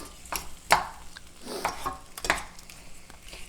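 An avocado is cut directly in a wok while cooking a Mediterranean-style dish, giving a few irregular knife taps and scrapes against the metal pan with soft shuffling between them, close and moderately quiet.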